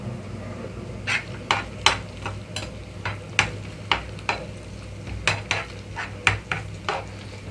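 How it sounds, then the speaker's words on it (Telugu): Beaten eggs stirred in a hot pan over a medium flame with ginger-garlic paste, giving a quiet background sizzle and a run of sharp, irregular metal scrapes and taps from the spoon against the pan. "మీడియం ఫ్లేమ్లోకి టర్న్ చేసి ఎగ్ అంతా కూడా కొంచెం కదిలిస్తున్నాను"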